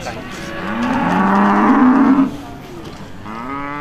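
Cattle at an agricultural show in Devon: one loud, drawn-out moo rising and then breaking off, heard close, followed by quieter background noise.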